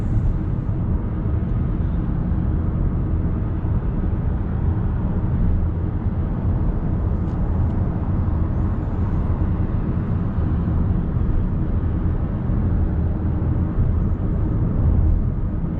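Cabin of a 2024 Ford Kuga Hybrid on the move: a steady, smooth low road and engine rumble fills the space at an even level throughout, with no talking.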